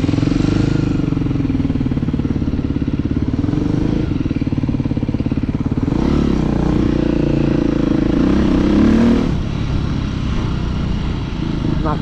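A dirt bike rides through city streets, its engine droning loud and close with steady rumble, occasional rises in revs and passing clatter throughout.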